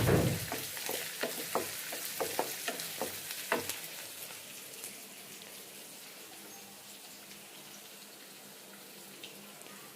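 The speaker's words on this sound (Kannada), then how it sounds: "ಚಿತ್ರಾನ್ನಕ್ಕೆ ಒಗ್ಗರಣೆ ಹಾಕ್ತಾಯಿದ್ದೀನಿ." Spices tempering in hot oil for chitranna lemon rice, cooked at home for Ugadi, give a burst of sharp crackling pops over the first few seconds, then settle into a steady, close sizzling hiss with no talking.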